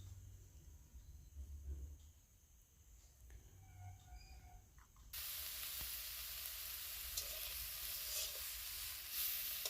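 Small prawns frying in a pan, starting as a low rumble with faint clinks before a loud, steady sizzle bursts in halfway and holds to the end.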